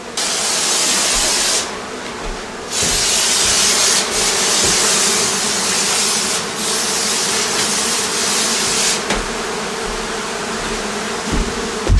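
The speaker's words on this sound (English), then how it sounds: "So I'm just going to give this a good spray and hold my breath and then clear out." Insecticide hisses from a spray can in long bursts into a feral beehive inside a townhouse wall cavity, over a loud, constant swarm buzz of bees close by.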